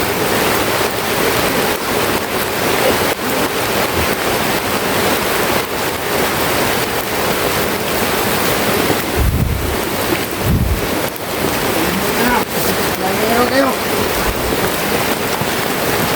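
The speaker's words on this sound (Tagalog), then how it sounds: "Basang-basa na tayo sa ulan." Heavy rain pours outdoors as a steady, loud, dense hiss that fills the whole stretch, mixed with gusty rumbles of wind buffeting the microphone, with no talking.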